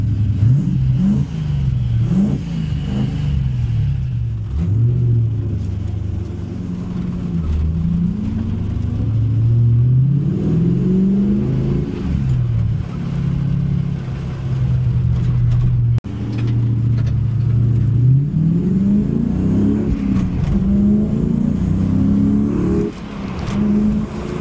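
A Mk1 Ford Escort with a TVR 3.5 litre V8 engine revs and accelerates loudly and close up, its deep burbling note rising and falling through repeated gear pulls.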